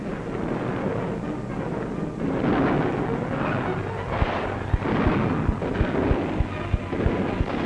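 Wartime artillery fire on the Tunisian front, a rumbling barrage with a series of sharp, distant thuds rising out of a constant low roar, with no voices.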